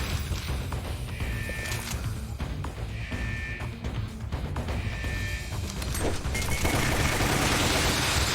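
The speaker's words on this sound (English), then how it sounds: "He's still just shooting things with guns, right?" Gunfire in Resident Evil: Umbrella Chronicles, with repeated bursts of shots and short ringing tones at steady intervals, then a louder wash of noise near the end, with no talk.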